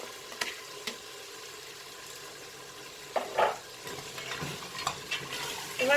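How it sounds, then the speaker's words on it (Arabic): White beans are stirred into a frying pan with vegetables, giving a low steady sizzle broken by several scraping strokes of a spoon against the pan, close and without talk. "غنحرك مزيان"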